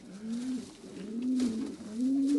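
Pet pigeons coo softly by a backyard shed, repeated rolling coos close by in a quiet setting.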